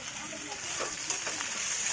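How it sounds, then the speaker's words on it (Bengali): Ground chilli, cumin, coriander, pepper, green chilli and ginger paste fry in a pan for a prawn and banana-stem curry, giving a steady close hiss and sizzle with faint stirring. "মশলাটা ভাজা হয়ে গেছে"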